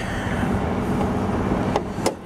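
A 2005 Ford Five Hundred's 3.0-liter Duratec V6 idles with the hood open, giving a loud, steady, even hum with no talking.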